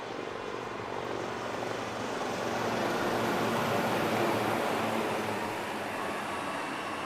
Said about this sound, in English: please welcome the brand ambassadors of the Indian Air Force, the Sarang helicopter display team